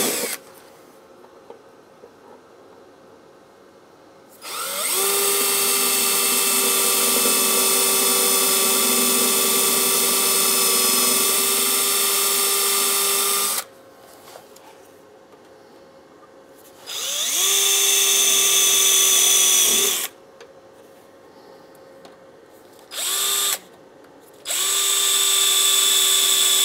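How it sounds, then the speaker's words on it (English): Power drill boring out spot welds on a 2001-2006 Chevrolet Silverado 2500 cab corner, loud whining bursts of several seconds each, the longest near the start, then shorter runs separated by quiet pauses. "and we'll plug weld those."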